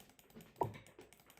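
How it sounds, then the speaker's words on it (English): A single sharp click close to the microphone, a computer mouse button being pressed, standing out from a quiet room background. "I'm clicking it. I'm clicking it."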